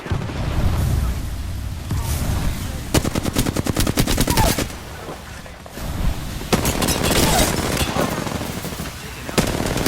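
Rapid automatic gunfire in Apex Legends, several tight bursts of machine-gun shots cracking loudly in close range with intermittent pauses and scattered game effects between volleys.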